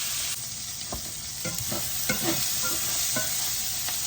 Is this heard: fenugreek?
yes